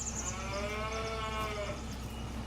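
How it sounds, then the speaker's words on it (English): A bull with long horns in the Farming Simulator 22 farming game gives one long, drawn-out moo up close, clear and steady over a low background hum, with no talking. "As you can see, the bull is right here by me."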